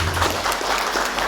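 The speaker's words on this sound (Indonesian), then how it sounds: "luar biasa, tepuk tangan dulu" Indoor audience at a high school assembly clapping steadily, a dense, even wash of applause from many hands that fills the whole moment.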